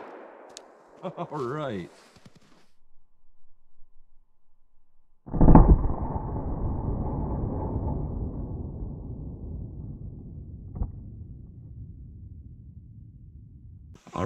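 A .45 Super handgun fires one loud, sharp shot into MDF, followed by a long reverberating tail and a fainter crack later on. A brief bit of speech comes earlier, then several seconds of quiet.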